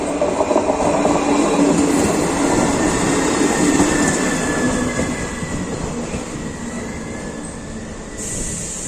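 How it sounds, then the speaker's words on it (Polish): A train rumbles steadily past at Český Těšín station with rail noise and faint squeals, loud and continuous throughout and easing slightly near the end. "Rychlika będziemy zaraz mieli."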